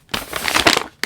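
Brown plastic packaging from a hoodie is crumpled and crushed for the trash, a dense, close crinkling rustle for about a second, ending in a sharp final crunch.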